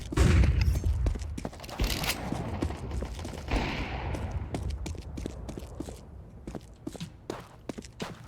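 Flashbang grenade going off in a video game: a loud close bang followed by a hissing burst, then a run of sharp footstep-like taps and clatters fading over several seconds.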